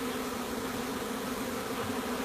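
A dense, steady buzzing drone of many honeybees around hives in Peru, continuous and unchanging, filling the space at moderate loudness without any voices.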